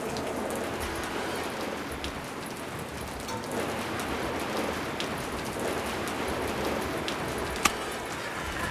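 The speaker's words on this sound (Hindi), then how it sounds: "क्या बारिश है" Steady rain falls as an even, dense hiss that stays constant from start to finish, with no voices.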